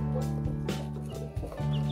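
Young chicks cheep and cluck softly in an indoor pen, a few short calls scattered over a steady background hum.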